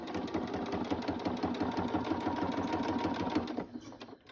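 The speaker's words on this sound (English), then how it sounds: "I just went ahead and did a straight stitch" A sewing machine runs a straight stitch through a paper journal card, a rapid, even mechanical chatter of needle strokes that carries steadily for several seconds before stopping abruptly.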